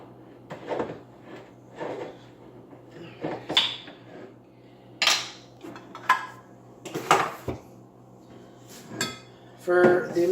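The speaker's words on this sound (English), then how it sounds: "So I'm just getting our tomatoes open up here." Jars of strained tomatoes being opened at a home kitchen counter while preparing Sunday sauce, giving scattered glassy clinks, lid clunks and knocks at close range, with pauses between bursts.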